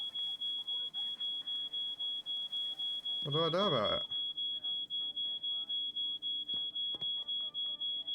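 A smoke alarm set off by burnt toast in a video game, a steady rapid beeping throughout, with a person speaking briefly over it midway.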